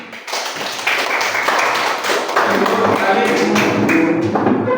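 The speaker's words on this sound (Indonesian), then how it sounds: "Oke, selesai, tepuk tangan." Group of students clapping hands together after a counted warm-up exercise in a classroom, a dense, steady patter of claps lasting several seconds with a few voices mixed in.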